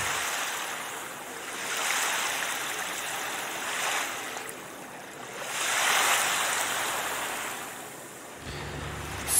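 Ocean waves surge and recede in broad washes of surf, swelling in loudness twice across the stretch with steady hiss between, wind faintly present and no voices.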